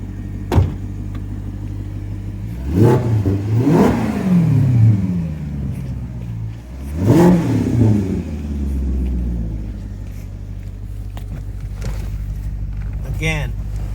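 Maserati GranTurismo MC engine revving while driving, two strong rising surges with throaty rumble between them, heard from inside the car over a steady engine drone.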